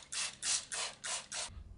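Handheld spray bottle misting water onto seedlings: five quick, evenly spaced trigger squirts, each a short airy hiss, fairly close and quiet, with no one speaking.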